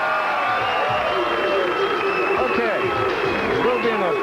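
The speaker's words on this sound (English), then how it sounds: "they deserve an extra round of applause" Crowd applause for bowling champion Walter Ray at the 1993 Tucson Open: a steady, loud wash of clapping and crowd noise, with cheering voices and chatter mixed throughout.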